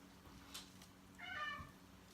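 Rescued cat letting out one short, faint meow indoors in a kitchen, with a soft tap just before it.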